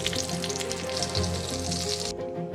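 Dried and green chilies, cinnamon, cloves, cardamom and a bay leaf fry in hot oil for a potato curry, giving a close, continuous crackling sizzle that cuts off sharply near the end. No one talks.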